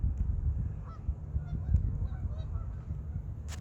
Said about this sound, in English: if you can see all the geese over there